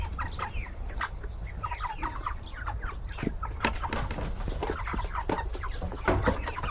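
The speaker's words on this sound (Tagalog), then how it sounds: "ayan yung mga manok natin mga kapengyo, pagkadami nila" Several backyard chickens cluck and chatter in a busy overlapping flock, with sharp calls scattered throughout over a low rumbling background, heard at moderate distance with no talking.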